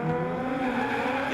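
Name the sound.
drift car engine revs building, Toyota GT86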